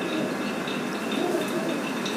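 Highflyer pigeons cooing at a pigeon loft in Karachi, a steady murmur of soft overlapping coos close by, continuous and dense with no talk.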